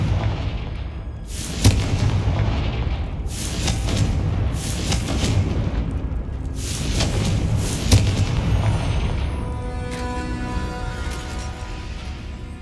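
Confringo spell blasts in Hogwarts Legacy land as a series of loud, booming explosive bursts, each followed by a rumbling decay, with a lighter crackling tail at the end.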